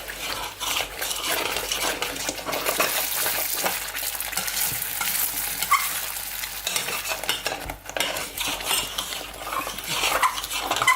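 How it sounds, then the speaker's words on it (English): Cheese sauce stirred in a pot as the cheese melts, a continuous close scraping of a utensil against the pot over a soft bubbling sizzle, with occasional metallic clinks. "Make sure you just keep on stirring, keep on stirring"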